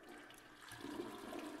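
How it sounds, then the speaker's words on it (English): A toilet flushes in the video game Toilet Rooms: a steady rushing swirl of water that surges louder partway through and holds at a close, even level, with no talking. "I had to make sure that it was fully flushed."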